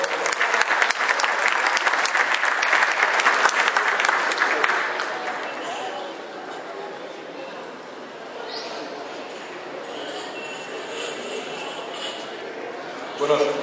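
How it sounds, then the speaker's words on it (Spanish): Audience at a national forum on public investment and state procurement applauds speakers, dense clapping loud for about five seconds, then thinning into scattered claps and crowd murmur. "Un aplauso, por favor."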